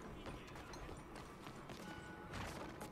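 Horse hooves clip-clop in a steady, quick rhythm over a dense background of Red Dead Redemption 2 game ambience, moderately loud with no voices.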